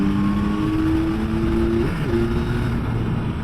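A Yamaha Tracer 9 GT motorcycle with electronic throttle accelerating, a steady loud engine drone with rising and shifting tones, close up with heavy wind noise throughout.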